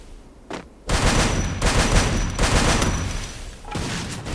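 Dense bursts of automatic gunfire in the Free Fire battle royale game, loud and close, firing in long sustained volleys with a couple of brief pauses and no talk over it.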